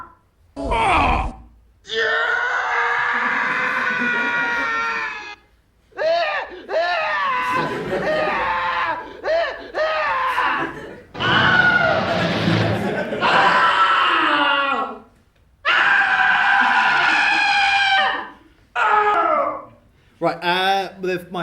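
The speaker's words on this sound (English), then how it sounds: "you will probably have heard every single one of these screams" A run of stock film and game screams, the Wilhelm scream among them, played one after another with short silent gaps, loud and close, a mix of shrieks, yells and guttural cries.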